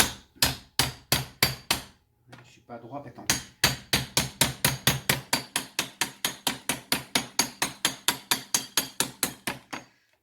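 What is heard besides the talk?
hammer tapping a knife to cut handmade soap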